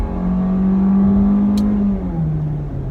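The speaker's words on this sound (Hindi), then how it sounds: "आप इसको फ्लोर करें तो गाड़ी एक्सेलरेट अच्छी करती है" A Kia Sportage engine at full throttle gives a steady, loud, rising hum that climbs in pitch for about two seconds, then dips briefly as the gear shifts and continues.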